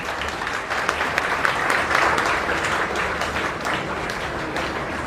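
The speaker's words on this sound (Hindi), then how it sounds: "डॉक्टर साहब के लिए ताली बजाई जाए।" A classroom audience at an organic chemistry coaching lecture in Kanpur claps for a visiting doctor: dense, steady applause from many hands that fills the whole stretch without a break.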